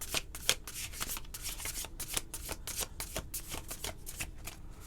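A tarot card deck is shuffled by hand close up, a rapid run of crisp riffling and sliding card bursts in quick, uneven succession, alone and fairly quiet.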